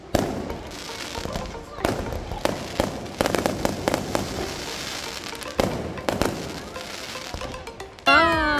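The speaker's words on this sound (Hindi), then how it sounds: "पटाखे भी चला लिए" Diwali firecrackers and fireworks at a Punjabi-style night celebration crackle and pop in dense, rapid bursts, loud and close, while people talk and call out over the blasts.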